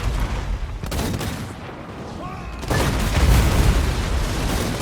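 Hellblast volley gun fire in a Total War: Warhammer battle, dense rumbling volleys of booming shots with rolling battle noise, growing louder and heavier partway through.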